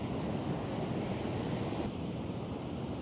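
Ocean surf and wind over the sea, a steady roaring wash with buffeting wind noise on the microphone, continuous and fairly loud with no voices.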